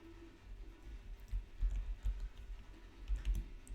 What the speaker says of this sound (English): this is how we type in the spreadsheet